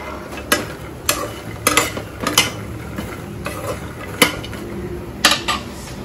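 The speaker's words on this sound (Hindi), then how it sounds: "यहाँ थोड़ा देसी घी डालकर मखाने फ्राई कर रही हूँ" Makhana (fox nuts) fry in desi ghee in a pan, a soft sizzle under repeated sharp metallic clinks and scrapes as a spoon stirs against the pot, with no talking.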